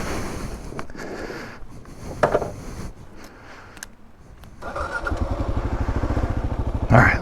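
A KLR 650 motorcycle picks its way along a tight, narrow trail, its engine idling low and then swelling into a steady, close, throbbing rumble with a throttle blip at the end, set against outdoor wind noise.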